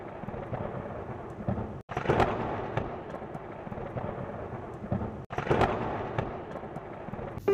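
Rain storm in a farming village, with steady broadband rain hiss and two loud rumbling bursts of thunder, near and heavy, each followed by continued rainfall, no voices.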